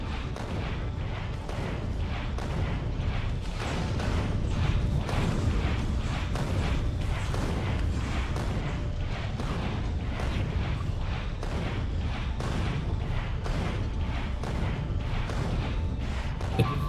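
Rockets fire in rapid succession at biters in Factorio with the Rampant mod, a dense, continuous barrage of booms and blasts that holds at an even, loud level throughout.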